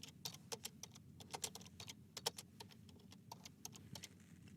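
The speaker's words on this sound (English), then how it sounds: "So I'm going to type, for example, see Jennifer regarding the accuracy of this number." Fingers type a comment on a computer keyboard, a steady, close patter of quick key clicks with small pauses between bursts over a faint room hum.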